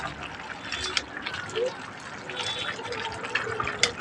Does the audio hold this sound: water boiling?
yes